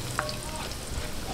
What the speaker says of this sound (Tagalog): umpisahan na po natin yung paggigisa